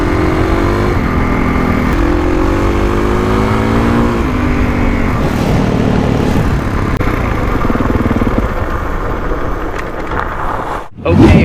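A 2021 Kawasaki KX450X dirt bike engine runs loudly and close, rising and falling in pitch as it revs and pulls away, with a gusty burst of wind noise near the end.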